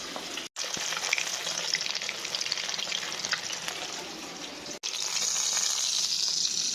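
Fish fries in a pan of oil with a continuous, bright sizzle and spatter, close and steady, briefly cut twice, with no one speaking.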